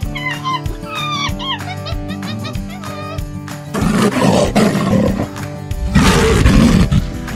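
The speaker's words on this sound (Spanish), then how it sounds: "León." A lion roars in a loud, rough, sustained burst, then roars again near the end, following several short voiced and musical sounds at the start.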